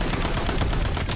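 Dense, continuous automatic gunfire from an assault rifle in a first-person shooter match, loud and close with rapid overlapping shots filling the whole moment, no talk over it.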